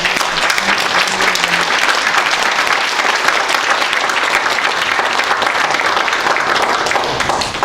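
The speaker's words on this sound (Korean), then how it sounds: "박수로서 환영해 주시면 고맙겠습니다." A symposium audience breaks into steady, dense applause that stays loud and continuous throughout, many hands clapping together in a large hall, with a faint voice underneath.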